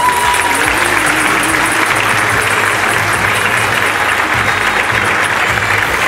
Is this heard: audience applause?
yes